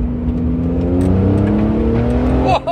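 An RWB Porsche sports car engine, driven with paddle shifters, revs with a rising, steady drone and a brief sharp pop near the end, loud and close.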